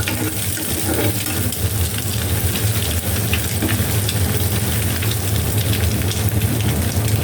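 Shing fish and rujet leaves frying in a pan, producing a loud, dense, continuous sizzle with faint crackles throughout, without pause and with no voices.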